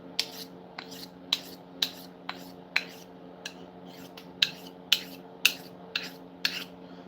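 A knife being sharpened by hand, a dozen or so crisp scraping strokes in a steady, unhurried rhythm, close by over a constant low background hum.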